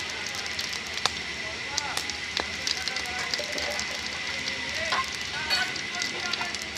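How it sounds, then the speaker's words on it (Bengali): Bay leaves sizzling in hot oil in a kadai, a steady close crackle and hiss with scattered sharp pops, while a voice talks quietly over the frying. "কড়াইতে তেজপাতা দিয়ে দিলাম"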